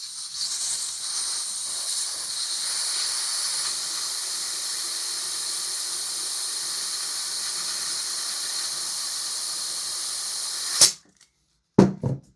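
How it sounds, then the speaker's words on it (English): Propane gas hisses through a Jaeger Precision adapter into a Saiga-12K gas shotgun magazine: a loud, steady, close hiss runs unbroken for about eleven seconds, then cuts off abruptly, followed by a few sharp clicks. "the Jaeger Precision propane adapter doesn't fill these magazines"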